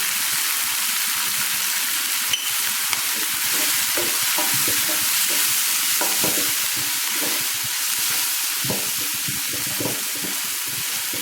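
Chopped onion, tomato and sambar powder sizzle and sauté in a pan for bread upma, with a continuous close frying hiss and occasional stirring scrapes and clicks, and no voices.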